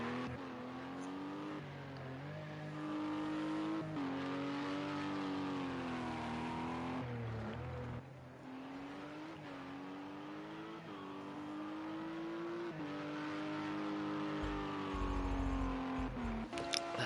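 An LMP2 race car on its outlap in a racing game, the engine droning and revving up through the gears with shifts and dips, continuous and close throughout.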